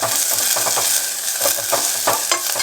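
Chopped ginger and garlic fry lightly for soup in a constant bright sizzle, with soft repeated stirring clicks and scrapes close by and no voices.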